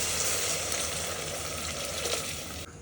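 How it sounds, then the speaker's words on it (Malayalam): Milk poured into a hot pan for pasta sizzles and hisses steadily, a close, continuous bubbling fry with no voices. "ഇതിലേക്ക് നമ്മൾ പാൽ ചേർക്കാൻ പോകണം."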